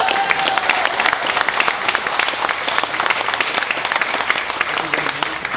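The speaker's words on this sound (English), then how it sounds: "let's give him a round of applause for that great lunch" An audience at the PTFK Awards 2016 luncheon claps in sustained, dense applause that stays loud and even from start to finish.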